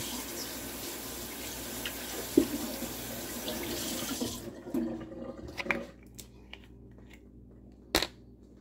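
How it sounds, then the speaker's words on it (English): Tap water runs over hands being rinsed at a sink while making carp and catfish bait, a steady splashing flow that cuts off midway, followed by a few drips and small clunks. "Let me rinse off my hands."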